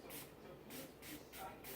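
Gun cleaner sprayed onto a Taurus PT111 G2 9mm pistol in a few short, soft hissing bursts with brief pauses between them, faint and close.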